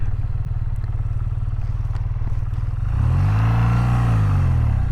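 A 2025 BMW R12 G/S motorcycle is ridden with a steady, loud engine drone that swells as the revs climb partway through, with rumbling wind and road noise and no speech.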